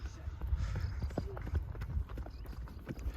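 Faint, steady clip-clop of donkey hooves on a rural path beside sugarcane fields on the West Bank of Luxor, Egypt, as the donkey is ridden. Soft rhythmic steps run throughout with low background noise.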